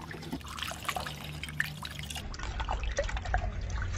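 Coolant trickles and drips steadily as it is poured into the cooling system of a 1973 Ford Bronco, close by, with faint clinks and handling noises and no talk.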